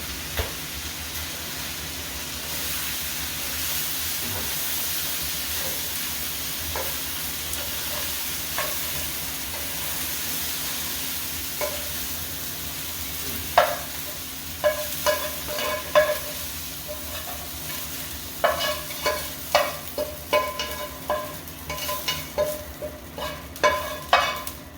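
Food fries in a single skillet in a home kitchen with a soft steady sizzle, then scraping and stirring clacks grow busier and louder toward the end.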